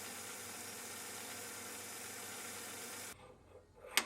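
A metal lathe facing the shoulder of a mandrel for a steam engine cylinder head runs with a steady, even machining drone that cuts off abruptly near the end, followed by a brief clunk.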